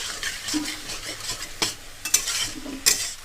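A tengra fish chilli masala sizzles in a pan as water goes in and a utensil stirs it, soft frying hiss broken by a few sharp scraping clinks against the pan.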